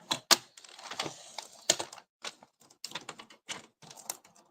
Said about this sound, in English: I'm just gonna cut it like that.